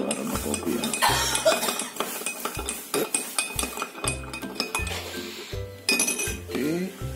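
A spoon clinks and scrapes against a glass or cup, stirring a coffee mixture for homemade Baileys in a steady run of sharp metallic taps, close and fairly loud, with a voice speaking over it at times.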